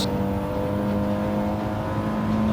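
Race car engine in Gran Turismo 7 held at full throttle, a loud steady droning whine with a sustained pitch that steps up near the end, no talk over it.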